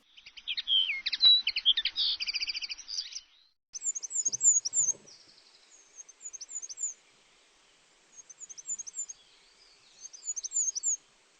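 Small birds sing in bursts of high, rapid chirping and trilling, with several separate phrases broken by short silences, fairly close and clear against a quiet background.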